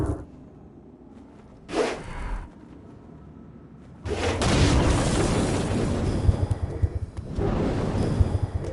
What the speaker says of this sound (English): go ahead and blast these demons to turn them to stone